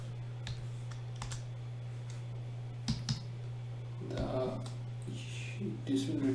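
Intermittent keyboard clicks while coding a web app in Angular and Express, a few scattered taps and short bursts over a steady electrical hum, with someone talking throughout.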